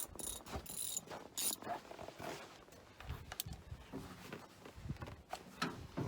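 Socket ratchet working a bolt loose during fuel filter service on a John Deere 4010 tractor, quiet rapid clicking bursts and metallic ticks, close but faint, with light handling noises between.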